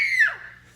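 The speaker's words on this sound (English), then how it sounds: "You want to get all your screams out now? Let's hear a big one." Concert audience screaming at an album release show, one short high-pitched shriek that slides downward and fades within a second.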